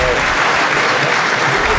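A crowd at a smart village conference applauds as a ceremonial lamp is lit to open the event, loud continuous clapping filling the space, with a voice faintly mixed in.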